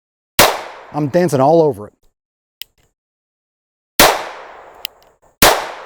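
Three sharp, loud cracks from a GSG Firefly .22LR pistol fired without its suppressor at steel targets, spaced seconds apart, with faint metallic pings between them and a brief spoken remark after the first shot.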